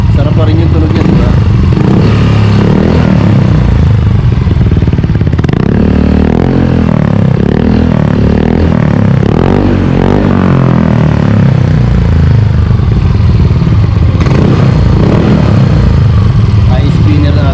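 A motorcycle fitted with an updated rev exhaust pipe rumbles loudly and close, its engine note rising and falling through revs while someone talks over it throughout.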